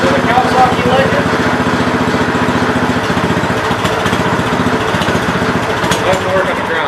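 A Kawasaki Legend engine repowering a Gravely 5200 tractor runs steadily with a rapid, even chugging pulse, close and fairly loud, with a voice talking briefly over it.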